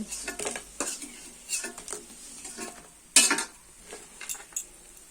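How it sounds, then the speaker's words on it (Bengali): Fried mustard-flower pakoras being lifted from a pan of oil, with a sizzle underneath and a series of metal utensil clinks and scrapes, one sharper clank near the end. "বাকি পাকোড়াগুলো ভাজা হয়েছে, এখন আমি তুলে নিব"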